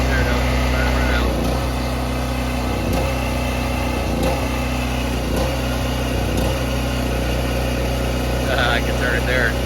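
A generator engine running steadily and loudly close by in an off-grid 12 volt shop, a constant drone with faint periodic knocks, while a person talks over it.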